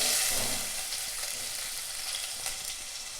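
Onions frying in hot oil with cinnamon, fennel seeds and cloves for a South Indian coriander appalam kootu, a steady close bright sizzle with faint stirring.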